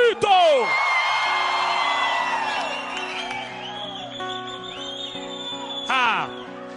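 An audience at a live music show whoops and yells in a loud burst at the start, then the crowd noise fades under music and shouting continues across the venue.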